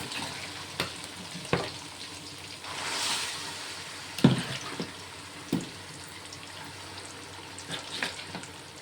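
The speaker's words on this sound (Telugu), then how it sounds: "అల్లం వెల్లుల్లి పేస్ట్ అయితే కొంచెం ఫ్రై అయింది ఇప్పుడు మనము ఈ చేప ముక్కలు వేసుకుందాం" Fish pieces frying in a pan with ginger-garlic paste for a fish curry: a steady close sizzle with occasional scraping stirs and knocks of a spoon against the pan, no talking.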